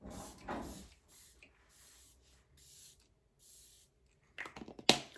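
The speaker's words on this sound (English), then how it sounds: "I'm gonna go ahead and just throw on some setting spray" A couple of soft spritzes from a makeup setting spray bottle, then a run of quick bursts of hissing mist with light clicks and handling noise near the end.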